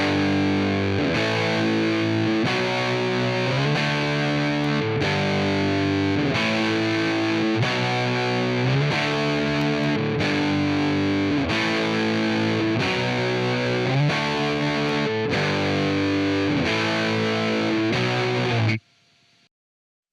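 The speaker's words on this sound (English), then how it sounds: "So let me play it and I'll turn the finisher on and off and let's hear what's happening." A music track processed through an Empirical Labs Big FrEQ finisher that is switched on and off, giving a loud, dense, distorted-sounding rhythmic mix with steady chord changes that runs continuously before cutting off abruptly near the end.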